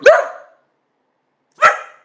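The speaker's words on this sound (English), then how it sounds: "Like he chambers every single bark." A dog barks twice, loud and close, with a pause of more than a second between the sharp barks.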